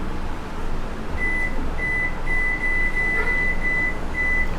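Oven being set to bake a vanilla mug cake: a short series of high electronic beeps repeats in an uneven rhythm over a steady background hum, fairly loud and close.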